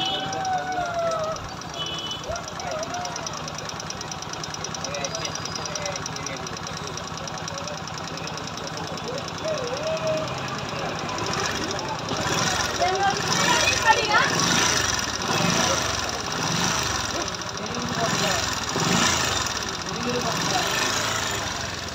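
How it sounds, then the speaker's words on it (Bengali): A Bajaj Discover 110 motorcycle engine, latest model, idles with a knocking noise, a steady mechanical rumble that grows louder and more rhythmic partway through, heard close up without speech. "এটা হচ্ছে ডিসকভার 110 লেটেস্ট মডেল। তো বাইকটার সাউন্ড শোনেন।"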